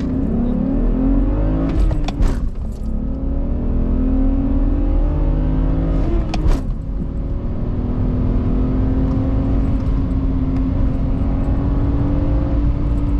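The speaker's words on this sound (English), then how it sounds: "naturally aspirated inline six BMW motor sounds good though." Stock BMW E90 with a naturally aspirated inline-six pulling hard from inside the cabin, a steady rising engine drone with two brief shift dips, loud and continuous with no talking.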